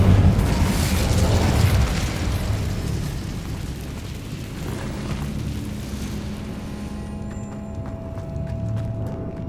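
An Incendio fire spell is cast in the video game Hogwarts Legacy, producing a loud rumbling whoosh that slowly fades over several seconds with no talk.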